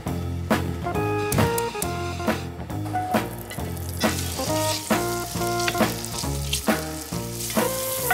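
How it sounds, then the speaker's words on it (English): Bacon sizzles and crackles steadily in a frying pan while cooking for coq au vin, a continuous close hiss with melodic music playing over it throughout. "While the bacon is sizzling"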